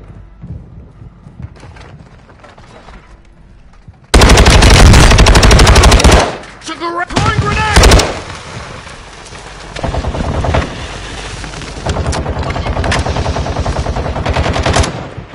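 Automatic assault rifle fire in a video game shooter, long loud sustained bursts that cut in suddenly and rattle on with brief pauses, near and dominant, with no talk over it.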